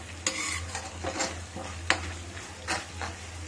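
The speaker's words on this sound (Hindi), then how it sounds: "अब इसमें हम डाल देंगे अपना हाफ कप दही, इसको भी फ्राई करेंगे अच्छी तरह।" Tomato and curd masala fries in a pan, with steady close sizzling and a few sharp scrapes as a spoon stirs the thick mixture against the metal.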